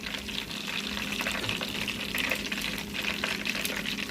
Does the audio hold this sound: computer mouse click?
no